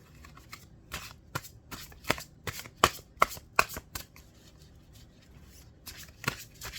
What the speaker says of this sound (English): I think I'm going to pull an oracle card over here.